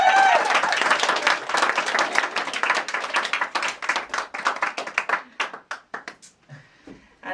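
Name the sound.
cabaret audience clapping hands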